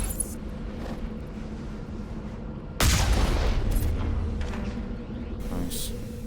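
A cannon fires in the Mass Effect video game: a sudden broadband boom blast that lingers as rumbling noise for several seconds, with a second softer burst near the end, over a steady game background hum.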